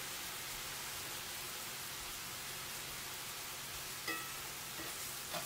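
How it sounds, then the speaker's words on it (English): Tortilla chips frying in coconut oil for a fajita salad, a soft continuous hiss and crackle at low level with a faint clink near the end. "I'm using coconut oil to cook my chips, and it works out just fine."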